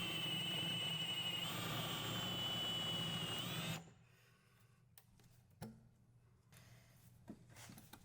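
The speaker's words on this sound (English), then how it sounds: "Drill out the 2 studs holding the heat shield to the OEM carrier." A loud, steady power drill whines continuously for nearly four seconds drilling out studs on a Ford Mustang driveshaft carrier, then stops, leaving a few sharp metallic clicks and knocks in a quieter room.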